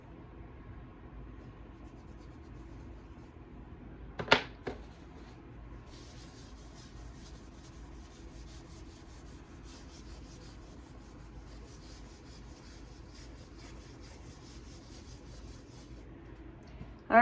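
Scrubbing residue off a dry board gives a steady, low rubbing and sanding sound that runs the whole time, with one sharp knock partway through and another near the end. No one speaks.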